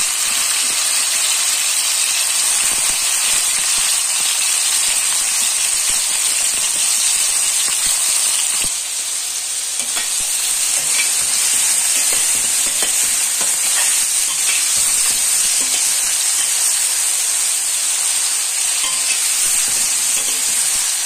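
Vegetables sauté in hot oil with a loud, continuous sizzle and hiss, broken now and then by faint stirring clatter.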